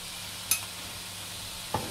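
Spices, coriander and parsley being stirred into minced meat, two short distinct scraping stirs about a second apart over a faint background hiss.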